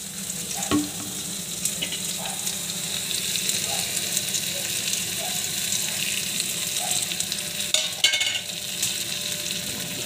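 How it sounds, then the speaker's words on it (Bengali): Spice paste for a fish curry fries in a hot pan, giving a steady close sizzle with occasional stirring scrapes and a brief burst of water near the end. "মশলাটা ভালো করে ভেজে নেব।"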